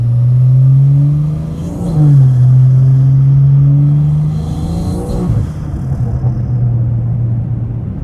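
A 500hp BMW 340i on summer tires spins donuts in snow, its engine droning loud and close in steady revving surges that rise and fall with wheelspin.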